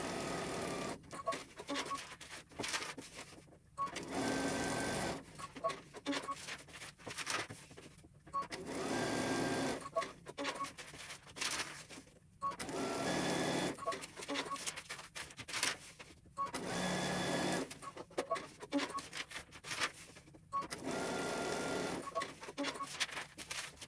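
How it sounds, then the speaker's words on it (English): Sewing machine stitching paper-pieced star units for a fracturing star quilt block, running in steady bursts of rapid mechanical whirring with brief pauses between seams, close and fairly loud. "You're starting above your line and you're sewing below your line."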